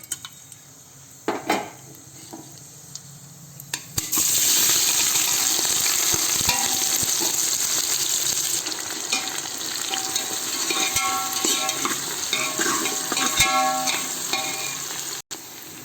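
Whole spices such as cinnamon and cloves fry in oil and ghee for a vegetable biryani, starting with a few quiet clinks before a loud, steady sizzle sets in, broken by the scrape and clatter of stirring against the pot.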